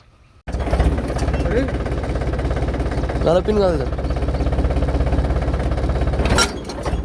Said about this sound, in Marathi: आला बघा ट्रॅक्टर पण आता जोडणार आहे याला